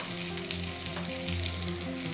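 Ground corn frying with softened onions in a pan, a dense continuous sizzle close up, with a low steady hum underneath.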